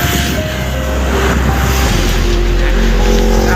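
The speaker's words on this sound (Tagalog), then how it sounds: "Grabe mga sasakyan dito, ang bibilis," Fast, heavy vehicles rushing past on a highway during a long motorcycle ride, with a loud continuous roar of engines and wind close by that swells as traffic passes.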